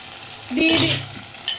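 Chopped ginger stirred while frying in a pan for a jackfruit kofta curry, a short scraping stir over a soft sizzle.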